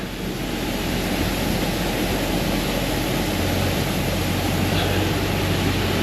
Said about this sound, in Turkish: Burada böyle küçük şelale var.